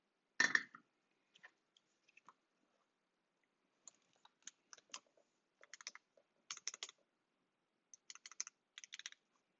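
Mechanical keyboard fitted with PBT keycaps, tapped in short scattered bursts of crisp clicks with pauses between; one louder clack at the start, otherwise moderately quiet and close, no voices.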